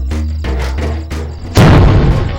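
A loud, sudden burst of a fart cuts in late, following a series of rhythmic low thumps, and holds as a rough, blaring rumble to the end.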